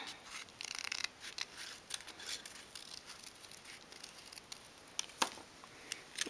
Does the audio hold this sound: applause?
no